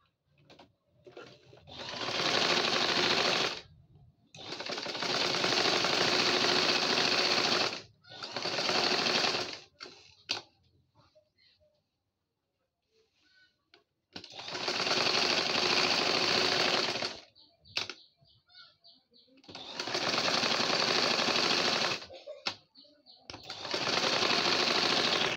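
A sewing machine stitches baby frock fabric in several loud, rapid whirring bursts of a few seconds each, separated by short quiet pauses, close by.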